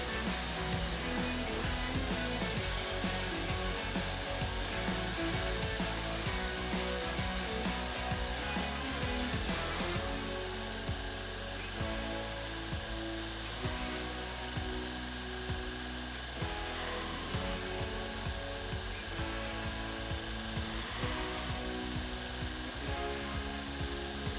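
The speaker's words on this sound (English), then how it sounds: "that's how I take a forged knife blank and grind in my bevels" A belt grinder grinds bevels into a forged chef knife blank, a continuous dense abrasive roar with steady rhythmic pulsing as the blade is passed back and forth, close and loud throughout without talk.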